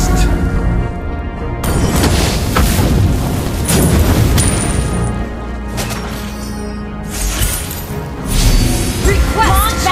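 Valir's Lava Burst in Mobile Legends: Bang Bang lands as loud, booming fiery blasts and crashing impacts amid dense game effects, with a voice talking over part of the action.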